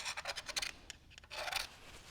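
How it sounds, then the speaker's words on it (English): Quiet, close rasping strokes of a hand tool scraping a Farmall tractor engine part, several quick back-and-forth scrapes, a short pause, then a longer scrape, with no talking. "Scrape, scrape, scrape."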